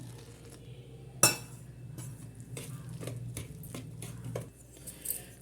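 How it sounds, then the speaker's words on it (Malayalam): Rice-flour dough being mixed with boiling water in a bowl, with soft scraping and light clinks of a utensil against the bowl, quiet and close, with one sharper knock near the start. "കുറേശ്ശെ ഒഴിച്ചിട്ട് ഇങ്ങനെ ഒന്ന് കൂട്ടി കൊടുക്കണം കേട്ടോ"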